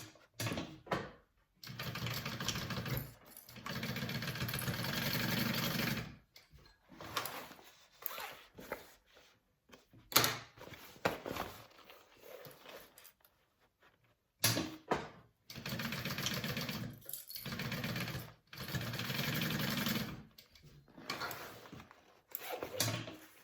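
Sewing machine stitching the exterior corners of a fabric pouch in short runs of steady whirring, stopping and starting with quiet gaps, close by, with no talking.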